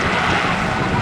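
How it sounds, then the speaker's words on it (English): A yellow rescue-liveried Westland Sea King helicopter at an air festival gives a steady, broad engine and rotor roar, continuous and fairly loud, with crowd noise or commentary beneath it. "huge yellow shape of the Sea King helicopter, proudly displaying yellow"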